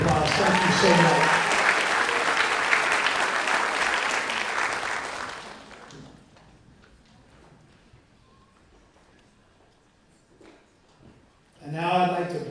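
Applause from an athletics awards-ceremony audience fills the opening six seconds, thick and steady, then dies away into a quiet room before a voice briefly speaks near the end.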